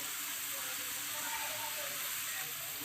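Ginger-garlic spice paste frying in a pan for a dhaba-style chicken curry, a continuous soft sizzling hiss that stays steady and fairly quiet throughout.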